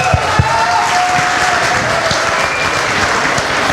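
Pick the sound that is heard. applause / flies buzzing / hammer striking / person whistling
applause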